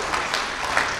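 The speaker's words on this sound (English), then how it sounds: "give him a round of applause, everyone," A crowd at an election night event applauds, a brief burst of dense clapping heard at moderate volume with no one speaking.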